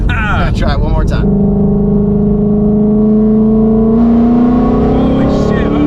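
A supercharged Ford GT500 Carbon Track Pack with a Whipple supercharger accelerates hard with its tires spinning, the engine roaring loudly and rising steadily in pitch after a brief burst of shouting at the start.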